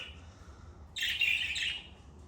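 Budgerigars in a coop give a short burst of bright, close chirping over a low, quiet background rumble, lasting under a second.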